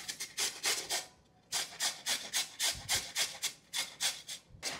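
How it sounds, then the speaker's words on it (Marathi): Red pumpkin flesh rubbed against a hand grater in a home kitchen, a steady run of close, rhythmic rasping strokes with a few short pauses between bursts. "त्याला गर काढून घेऊयात आणि किसून घ्यायचं."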